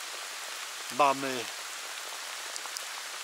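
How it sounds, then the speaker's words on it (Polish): Steady rain falls during pike fishing outdoors, a continuous even hiss of drops that fills the whole stretch, briefly interrupted by a single short spoken word. "I ciągle pada, pada i pada."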